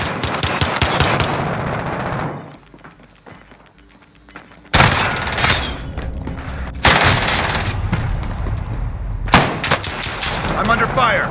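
Loud bursts of automatic gunfire and booming blasts tear through a Call of Duty: Modern Warfare battle, breaking off into a short lull before heavy rapid fire resumes in several dense volleys, with voices shouting amid the fighting.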